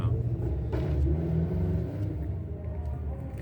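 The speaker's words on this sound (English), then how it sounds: "Just got rumbling by us here. Subaru just there." A Subaru rally car rumbles past nearby before a stage, a steady low engine drone that swells briefly then holds, with no talk over it.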